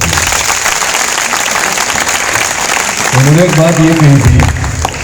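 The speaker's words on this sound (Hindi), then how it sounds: "उनके नाम से एक बार जोरदार तालियां बजाओ" Cadets and guests clapping at the closing of a seven-day NCC camp, steady loud applause throughout while someone speaks over it.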